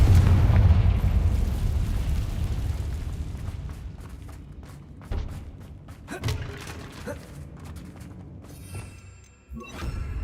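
Confringo fire spell blasts in the video game Hogwarts Legacy, a heavy booming explosion with a long rumbling tail, followed by scattered smaller thuds and crackling impacts.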